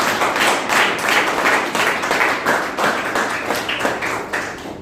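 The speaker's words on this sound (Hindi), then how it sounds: "मैं चाहूंगा मैम के लिए एक जोरदार ताली दीजिए" An audience at a health awareness programme claps loudly for a speaker: dense, vigorous applause in rhythmic surges, continuous for the whole stretch and close, with no voices over it.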